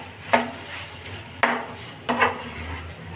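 Grated potato being mixed with salt in a bowl for potato pachadi: three distinct scraping, clinking strokes of a utensil against the bowl, close and unhurried, with no talking.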